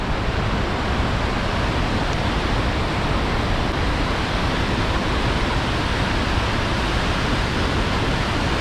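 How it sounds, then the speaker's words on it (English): Noccalula Falls waterfall pours in a constant, loud, close roar that holds completely steady for over eight seconds with no voices. "Gotta love waterfalls."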